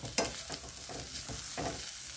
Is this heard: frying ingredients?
yes